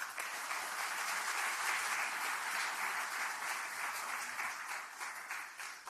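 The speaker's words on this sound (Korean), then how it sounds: "박강원 원내대표께 뜨거운 박수 보내주시기 바라겠습니다." Sustained applause from a large audience at a Democratic Party of Korea meeting of regional committee chairs and lawmakers, dense and steady clapping throughout with no voices over it.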